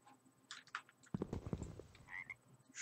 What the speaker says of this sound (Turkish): Vallahi kurbağalar atıyor.